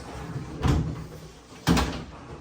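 Accordion storage doors in a home garage are opened in two quick folding clacks about a second apart, close and fairly loud.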